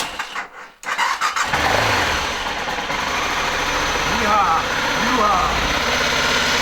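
A BMW F 650 ST motorbike engine cranks briefly, then catches and settles into a steady, close idle that rumbles on; a voice shouts a cheer as it fires.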